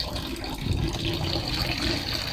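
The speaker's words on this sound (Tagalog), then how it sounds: "pina-start na natin yung submersible pump natin at unti-unti nang umaangat ang tubig." A submersible pump pushes water into a DIY pond filter, giving a steady, close rushing and gushing flow that holds without pause for the whole stretch, with no voices.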